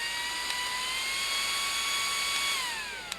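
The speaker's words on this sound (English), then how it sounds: "what it is a handheld high-speed fan. Even on the low setting, that's nice." A handheld high-speed fan on its low setting gives a steady, close, high-pitched whine with a soft airy rush, and its pitch shifts slightly near the end.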